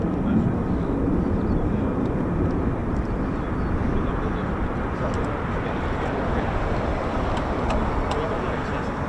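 An F-35A fighter jet flies over an air base, a broad continuous roar holding steady at a distance throughout.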